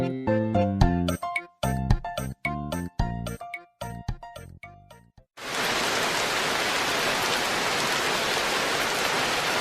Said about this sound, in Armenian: Մայրիկ, անձրև է սկսվում։